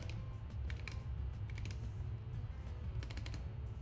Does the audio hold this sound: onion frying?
no